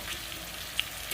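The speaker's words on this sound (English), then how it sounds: "I am going to scramble our eggs on the opposite side of the pan here" Eggs scramble on one side of a hot frying pan while shrimp pad thai cooks, a soft, even sizzle with one tiny tick, brief and fairly quiet.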